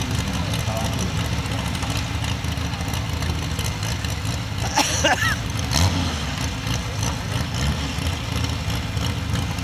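Tractor with an oversized carburetor running at a 4-H tractor pull, a steady loud engine drone with crowd noise and people talking over it throughout.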